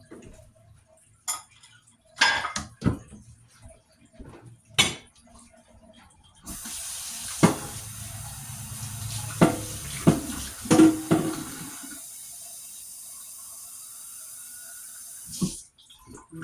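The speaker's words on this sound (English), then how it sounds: "get just a little bit of water. We're going to put some water in here." Water from a coffee cup pours into a baking pan of seasoned chicken wings with basil, a steady splashing trickle lasting several seconds, surrounded by scattered clicks and kitchen knocks.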